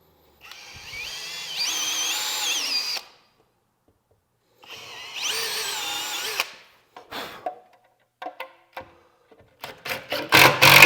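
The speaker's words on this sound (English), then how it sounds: "we'll be able to drill those pilot holes a lot easier" A power drill drilling pilot holes to mount an EV charger whines in two long bursts of a few seconds each, then fires in short quick pulses, loud and close, with silence between runs.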